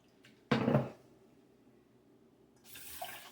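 Tap water runs into a pot or cup for cooking rice, a loud burst of flowing water for about half a second, then quiet, then softer running resumes near the end.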